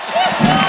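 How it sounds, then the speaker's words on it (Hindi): Brief burst of studio audience applause at a television comedy show, loud and close, swelling for under a second with broadband clapping texture. "वाह, जोरदार तालियां"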